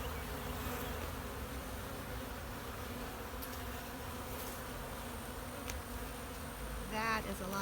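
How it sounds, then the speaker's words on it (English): Honeybees at an open hive make a dense, continuous close buzz, with individual bees droning past the listener, under faint talk. "That is a lot of bees."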